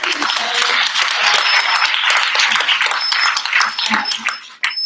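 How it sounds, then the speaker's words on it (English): Audience at a team event bursts into loud, sustained applause and clapping, with scattered cheers and whoops, dense and close throughout before briefly dipping near the end. "I would just really love for all of you guys to give yourselves a round of applause"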